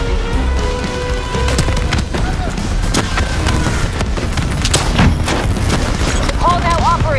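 Heavy gunfire in a Call of Duty Black Ops 3 battle against a combat robot, sustained volleys and booming impacts packed densely throughout, loud and close, mixed with game music and voices talking over the fight.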